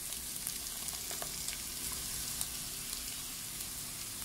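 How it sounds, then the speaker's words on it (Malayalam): Ground coconut paste hits hot oil with browned onion and tomato for a Kerala egg curry. It makes a steady, close sizzle with scattered small crackles and pops throughout, and no voices. "ഇനി ഇതിലേക്ക് അരച്ചു വെച്ചിട്ടുള്ള തേങ്ങയുടെ അരപ്പ് ചേർത്ത് കൊടുക്കാം."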